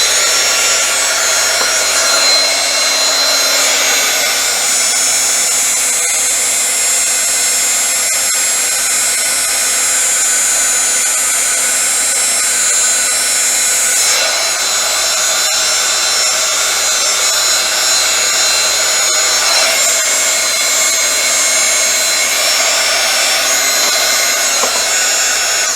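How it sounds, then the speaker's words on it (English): A heat gun blows a loud, steady, close hiss of hot air while heat setting embossing powder, running continuously throughout without talk. "we're going to bring our heat gun back over and our tweezers, and we are going to heat set this"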